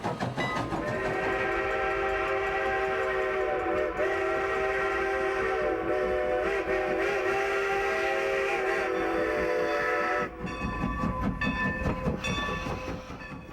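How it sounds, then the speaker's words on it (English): A steam locomotive on a scenic tourist railroad hauls historical rail cars past, a loud steady chuffing rumble with a long sustained whistle tone, shifting near the end. "Steam locomotives travel these rails on a daily basis, pulling authentic historical rail cars"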